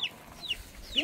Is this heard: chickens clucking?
yes